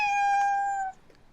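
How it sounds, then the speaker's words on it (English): A single loud cat meow sound effect from a video game rings out clearly for under a second, then cuts off into near silence. "the meow's still so loud"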